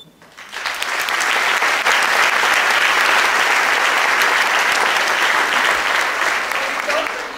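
An audience at a pinning ceremony breaks into loud, sustained applause for the faculty, rising quickly from quiet to a full, dense roar of clapping that holds steady and tapers slightly at the close.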